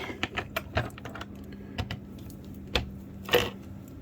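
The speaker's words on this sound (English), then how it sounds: "I'll peel the hot glue up" Hot glue peeling off a wireless keyboard gives a string of sharp, irregular crackles and snaps, close and fairly quiet, with short pauses between bursts.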